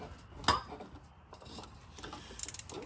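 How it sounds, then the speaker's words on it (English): A ratchet tightens the drain plug on a Honda Civic Type R manual transmission, crushing an aluminum washer; a quick series of close, clicking pawl strokes comes near the end, after a sharp metallic clank. "You just torque it down to the point where you can feel the aluminum washer just crushing"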